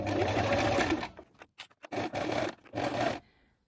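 Sewing machine stitching a garment seam, a loud close whirring run followed by short stop-start bursts of stitching.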